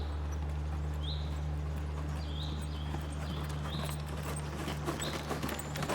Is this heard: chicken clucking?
no